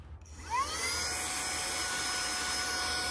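A small xCool portable vacuum cleaner starts up, its motor whining upward in pitch and then settling into a steady high hum that runs on alone, close and fairly loud.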